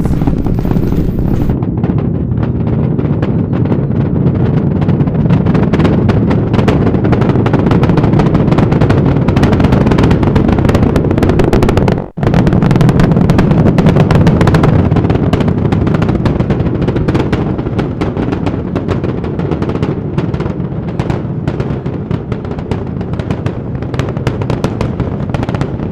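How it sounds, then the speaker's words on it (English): A SpaceX Starship Super Heavy booster lifts off at Starbase on 33 Raptor engines, a loud continuous crackling roar with heavy low rumble that persists without letup, with one brief dropout midway. "33 out of 33 Raptor engines lit on the Super Heavy booster, arcing away from us here at Starbase"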